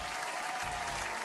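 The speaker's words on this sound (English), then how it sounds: "Applause for GOAT" A short burst of steady applause, a dense wash of clapping held at an even, moderate level for about a second without pauses.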